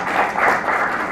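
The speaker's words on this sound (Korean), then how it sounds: "그때 박수를 쳐 주십시오" Audience clapping at a policy debate forum as panelists are introduced, a continuous close patter of many hands filling the short moment without pause.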